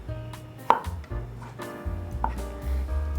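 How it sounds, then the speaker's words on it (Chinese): A knife chopping fresh shiitake mushroom into small dice on a board, quick repeated close taps in an uneven rhythm with two sharper knocks, over a light background hum. "把香菇切成小丁"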